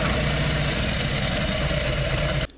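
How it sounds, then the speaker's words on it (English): Harley-Davidson Touring motorcycle with a 107 engine idling right after an oil and filter change, a loud, close, steady low rumble with a even throb that cuts off abruptly at the end. "We're going to let the bike run for a few seconds here so that the oil gets through the entire system."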